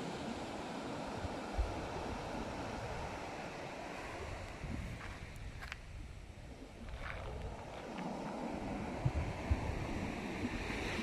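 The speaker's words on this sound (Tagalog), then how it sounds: "Lakas ang alon." Strong ocean surf at Dinapigue, Isabela rolls and crashes continuously, with steady wind buffeting the microphone and a few sharper breaking swells, fairly faint overall.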